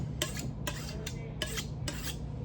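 Rhythmic metallic scraping strokes, five in quick succession, of a blade drawn across a sharpener, close and fairly quiet.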